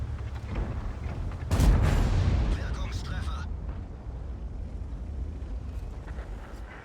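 In the video game, the Tiger-Maus tank's gun fires one heavy blast, a sudden loud boom that rolls into a decaying rumble amid steady background battle noise.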